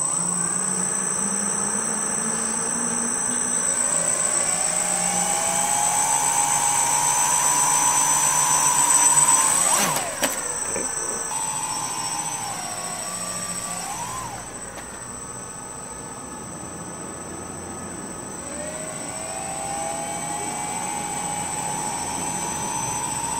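A homemade quadcopter set up with MultiWii makes its first flight with a steady, loud, high motor and propeller whine. The pitch rises and falls as the throttle changes, and the sound briefly cuts out partway through.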